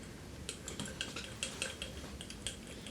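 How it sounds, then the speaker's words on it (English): Coumarin powder being stirred into DPG in a small glass vessel, a run of light clinking taps scattered across a quiet background, close and fairly soft. "I'm just going to stir this."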